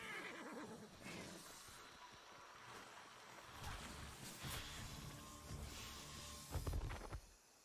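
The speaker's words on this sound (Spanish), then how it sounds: "¡Caballo!" A horse in the online survival game Atlas whinnies on a sailing-ship setting, faint neighs rising over a constant wash of sea waves and wind, with a brief louder thump near the end.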